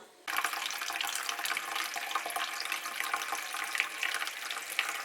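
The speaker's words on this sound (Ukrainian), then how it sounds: "Спробуємо намочити тканину більше 30 градусів водичкою." Tap water at over 30 degrees runs steadily into a sink to soak bedding fabric, a continuous close hiss and splash that starts abruptly and holds at even loudness, with no talking.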